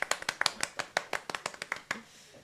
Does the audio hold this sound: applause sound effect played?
yes